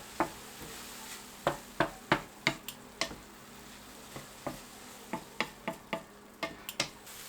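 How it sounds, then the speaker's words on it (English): Mushrooms being sautéed in a pan for a Vietnamese pyramid rice cake filling, heard as a string of sharp utensil taps and scrapes against the pan over a faint sizzle, irregular and close. "Add in the mushrooms and saute for 1 minute."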